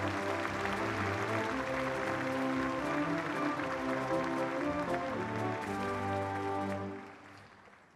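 Audience applause at a Korean War armistice and UN forces participation commemoration ceremony, a steady patter of clapping mixed with sustained band music that carries through before fading out at the end.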